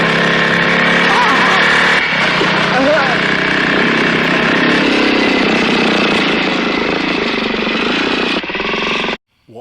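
A motorbike engine in a film scene runs loud and steady, a continuous buzzing drone that holds for several seconds before cutting off abruptly near the end.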